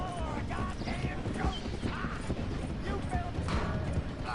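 Rhythmic hoof clip-clop of a galloping horse in the video game Red Dead Redemption II, with an occasional whinny, steady and close, mixed with game sounds and voices talking over it.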